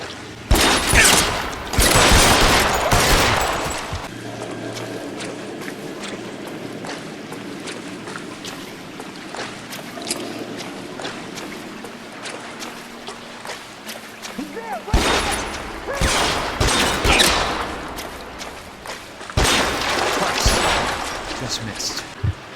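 Bursts of rapid gunfire from the crime video game L.A. Noire crackle loudly in several clusters, separated by quieter stretches of game ambience and engine-like rumble.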